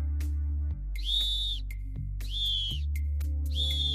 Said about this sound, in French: Un sifflet est beaucoup plus fort que la voix et demande beaucoup moins d'énergie pour son utilisation quand tu es fatigué.